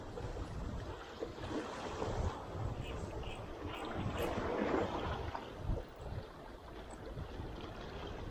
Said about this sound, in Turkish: Rüzgar çok fazla var ya.